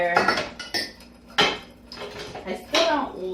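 Dishes and cutlery clattering during washing up in a kitchen, several sharp close clinks and knocks of plates and silverware in irregular bursts, with faint sounds of a person between.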